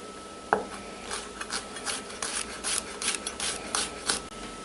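A knife chops garlic on a board for channa masala, giving a quick run of light, uneven taps and scraping strokes close by, with no voices.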